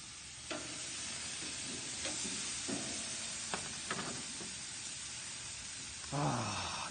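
Faint, continuous sizzle of a pork roast searing on an outdoor barbecue grill, a soft hiss broken by a few brief clicks and knocks and a short rustling burst near the end.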